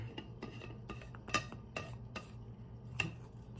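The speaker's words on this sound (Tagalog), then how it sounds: "Lagyan ko ng cover." Cover being fitted onto a vacuum mug, a series of small clicks and light taps of a lid at close range, quiet and irregular, with no talk.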